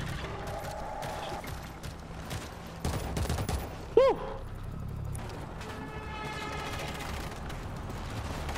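Gunfire in a zombie shooter game: scattered shots and bursts over a steady mix of game noise, with one sharp louder report standing out midway.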